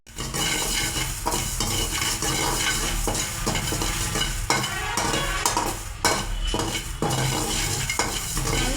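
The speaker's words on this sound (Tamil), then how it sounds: "வெந்தயமும் கலர் சேஞ்ச் ஆகிற வரைக்கும் நம்ம வறுத்தா போடுங்க." Fenugreek seeds dry-roast in a pan for a fish curry masala powder while a spoon stirs and scrapes them, giving a steady close sizzle broken by repeated metallic scraping strokes.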